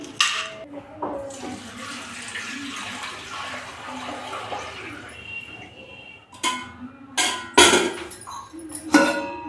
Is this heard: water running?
yes